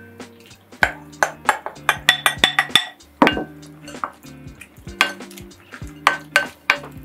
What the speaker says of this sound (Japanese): そしたらソースが完成したら、先ほど作っておいたこの野菜を炒めたやつにこれを混ぜ合わせます